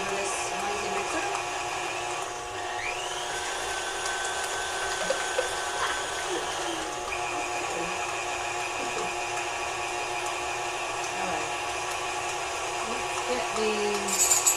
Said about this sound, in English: I hope you can hear me over this noisy mixer.